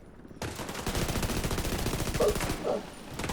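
Rapid automatic gunfire from The Division 2 video game rattles in a steady, sustained burst of closely spaced shots, loud and continuous for about three seconds with no talking.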